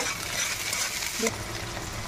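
Chopped onion and tomato frying in mustard oil in a wok, a busy close sizzle with stirring scrapes and one brief clank near the middle, no talk.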